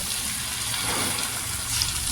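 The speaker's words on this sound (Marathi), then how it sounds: "इथे पाणी टाकायचं" Steady gushing of water being poured into a cooking pot, a continuous broadband wash lasting the whole clip with no speech.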